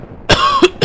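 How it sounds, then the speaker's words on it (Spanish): A person coughs three times, sharp and close, with a short gap before the second cough and a shorter one before the third. "Estoy como tosiendo mucho"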